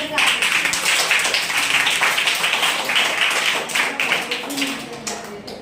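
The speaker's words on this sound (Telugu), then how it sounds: "మళ్ళీ గట్టి క్లాప్స్ కొడదాం" A school audience of students at a free meditation training session in Chintaluru village claps loudly and steadily for several seconds, a dense, continuous burst of many hands close by.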